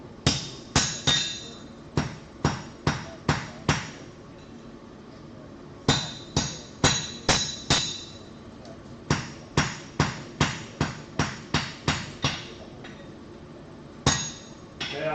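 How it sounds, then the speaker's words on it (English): Steel struck with a hammer on an anvil while forge welding at a blacksmithing demo in Athens: loud ringing blows in quick bursts of three to five, repeated with short pauses throughout. "Better to burn it up right now than it is when you're forge welding it together"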